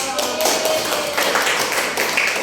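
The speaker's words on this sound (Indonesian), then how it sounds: "Beri tepuk tangan dong" A classroom group claps hands, a close, busy patter of many overlapping claps that stays fairly even and loud throughout the short burst.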